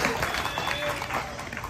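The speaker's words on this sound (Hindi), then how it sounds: "तो एक बार जो हमारी ट्रैवल एजेंसी है जो हमें यहाँ तक लेके आए उनके लिए भी एक बार जोरदार तालियां" A tour group's audience claps at length in thanks to their travel agency at the Bhagavad Gita's birthplace, a dense, steady burst of many hands with a little voice mixed in.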